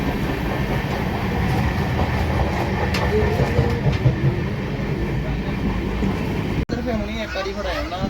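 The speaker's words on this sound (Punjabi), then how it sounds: "ਅਸੀਂ ਫਾਈਨਲੀ ਇੱਕ ਵਾਰ ਤੋਂ ਟ੍ਰੇਨ ਦੇ ਵਿੱਚ ਬੈਠ ਗਏ ਹਾਂ" Inside the carriage of a moving passenger train, a constant loud rumble and rhythmic clickety-clack of wheels runs throughout, with people talking over it.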